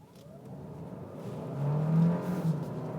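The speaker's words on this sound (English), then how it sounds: "And now I'm going to give it some gas." A car's engine revs up under acceleration in sport mode, a low steady drone swelling louder midway and holding strong, with a rising whine beneath, no talking.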